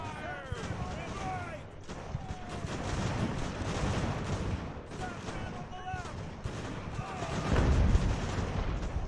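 Naval cannon fire from the sailing-ship battle game Ultimate Admiral: Age of Sail: a continuous rumble of overlapping booming broadsides that swells louder near the end, with someone talking over the opening.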